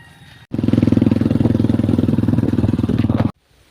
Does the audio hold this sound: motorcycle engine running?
yes